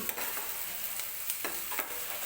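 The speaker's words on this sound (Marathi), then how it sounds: "तर कांदा सॉफ्ट होईपर्यंत आपल्याला तेलामध्येच व्यवस्थित भाजून घ्यायचा आहे" Onion frying in oil, being softened in the pan for a cauliflower and green pea curry; a steady close sizzle runs throughout, broken by a few short scraping stirs of the spatula.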